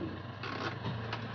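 A Toyota Avanza engine runs at a steady idle, a low continuous hum with faint mechanical ticking and a few brief rattles layered on top, heard close up.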